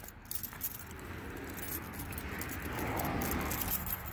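A set of keys for a 5-ton military wrecker jangles and rattles in a brief metallic burst near the start, then a faint rustling and handling continues quietly in an outdoor setting.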